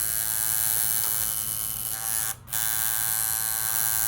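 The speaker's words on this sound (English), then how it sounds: "I use the regular outlining machine." Tattoo outlining machine running at a steady high-pitched electric buzz, loud and close, with one brief dip near the end before it resumes.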